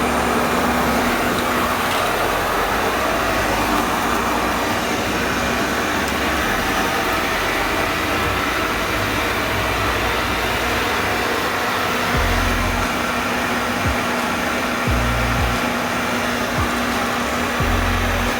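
A Eufy G10 Hybrid robot vacuum runs across a concrete floor, a loud continuous motor whir with a steady airy roar that holds close and unbroken throughout.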